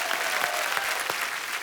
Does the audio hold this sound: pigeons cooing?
no